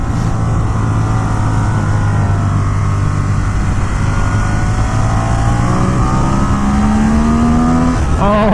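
A 2017 Ducati Monster 1200 R motorcycle runs in second gear after a downshift. Its engine gives a loud, close, steady roar that rises slightly in pitch near the end.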